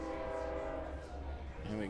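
A train horn sounds in a long, sustained blast near a baseball field during a game, loud and continuous, with a commentator talking over it.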